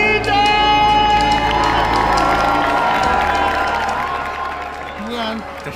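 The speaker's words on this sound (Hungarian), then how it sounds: "Tapsoljuk meg Rita!" An audience applauds and cheers for Rita at a grand opening event, loud sustained clapping with whoops and shouts, gradually thinning toward the end, and voices mixed into the crowd noise.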